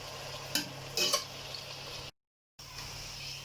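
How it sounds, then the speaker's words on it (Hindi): Onions browning in a pan for Punjabi mutton biryani give a soft, steady sizzle, with a couple of brief stirring scrapes near the start and a short dropout midway. "ये देखें, प्याज को हम ब्राउन कर लेंगे।"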